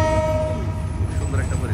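A train passes near a fish farm project in Bangladesh, its horn holding steady, drawn-out tones over a loud, continuous rolling rumble close by.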